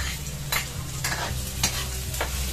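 Garlic and onion sautéing in hot oil in a home kitchen for chicken adobo, giving a steady close sizzle broken by a few spoon stirs and scrapes. No one speaks.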